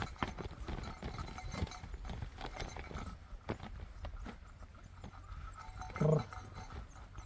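Horse hooves clip-clop at a steady walking rhythm during a horse ride toward snow in Kashmir, moderately close over outdoor background noise, with a brief louder sound near the end.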